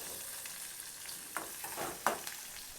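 Cumin seeds and cashews frying gently in oil over a low-medium flame for rava dosa, a faint low sizzle with a couple of soft stirring scrapes.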